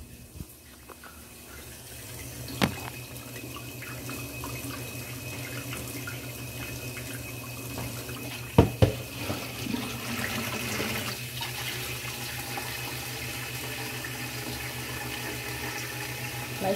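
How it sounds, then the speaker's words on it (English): Water runs steadily from a tap into a pot of noodles with a constant hiss, with a couple of sharp clanks partway through. "And then you put water over the noodles."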